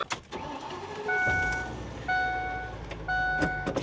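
A bus with a badly underinflated tire creeps along slowly, its engine droning and rising in repeated revving surges under steady road rumble, close and fairly loud.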